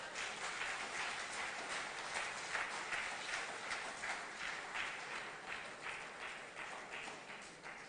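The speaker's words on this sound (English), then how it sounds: "deserves another round of applause" Audience applause at a scrap iron dealers' stakeholder symposium in Trinidad and Tobago, a sustained, even patter of many hands clapping through the hall, fairly quiet and continuous.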